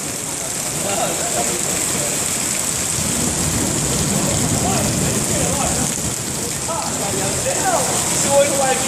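Heavy rain pours steadily during a downpour, with a broad constant hiss of water close by and faint low rumbles of thunder beneath, continuous throughout with no clear speech.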